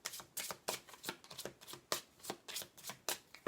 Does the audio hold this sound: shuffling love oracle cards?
yes